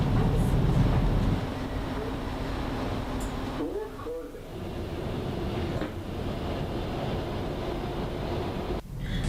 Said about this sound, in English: When the train arrives, Ali finds the door to the train carriage